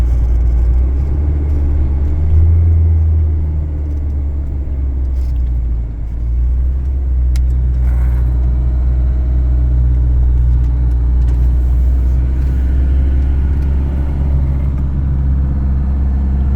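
A car pulls an NPS 3.5-8t semi-trailer, 12.7 m long, on a test drive, slowing to take a roundabout and exit. A steady, loud low engine rumble with road noise holds throughout, with no talk.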